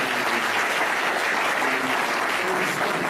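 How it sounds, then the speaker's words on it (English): An audience at a school community event breaks into steady, dense applause, many hands clapping continuously at close range with no pauses, filling the whole moment without speech. "Please a round of applause for them once again."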